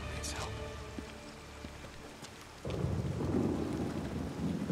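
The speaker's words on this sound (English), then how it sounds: "We got a storm." Thunderstorm with rain in the video game Days Gone: a steady hiss of rain runs throughout, then a heavy rumbling swell of thunder rolls in partway and stays loud to the end, with a voice speaking faintly underneath.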